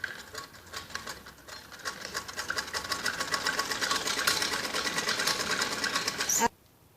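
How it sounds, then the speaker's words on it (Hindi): A sewing machine stitches a strip of a child's skirt lining for gathering, running in a fast, even mechanical whir close up for several seconds before stopping abruptly. "जैसे हमने इस पट्टी पे सिलाई लगाई है"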